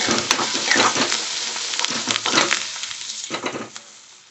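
Peanuts, curry leaves and turmeric crackle and sizzle in hot oil in a home kitchen pan for poha, with bursts of spitting and frying up close that ease off toward the end.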